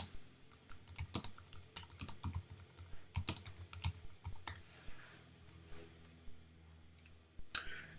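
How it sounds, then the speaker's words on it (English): Someone types an address on a computer keyboard: quick, irregular runs of close, crisp key clicks with brief pauses, and no talking. "Simply just type in your address."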